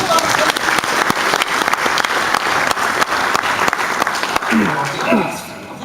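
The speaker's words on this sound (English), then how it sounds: "Give Chris a nice big round of applause." An audience at a science show gives a burst of applause, dense clapping from many hands that stays strong, then tapers as a presenter starts speaking near the end.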